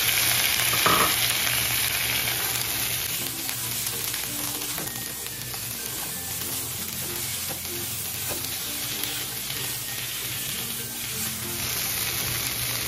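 Broccoli stir-fried in a hot pan with carrots for a meatless Chinese-style vegetable dish sizzles loudly and steadily up close, with scraping and stirring knocks from the pan throughout.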